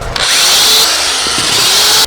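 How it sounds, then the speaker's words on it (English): A power drill whines loudly and steadily, boring a mounting hole for a sprinkler controller, close by with a continuous high-pitched spin and a brief change in load partway through. "Okay, so I need to drill a hole here and another hole here."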